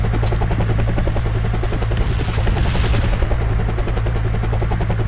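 A helicopter in the PC game Code of Honor: The French Foreign Legion roars loudly and steadily with a constant rotor throb, and a sharp burst of gunfire cuts through briefly midway.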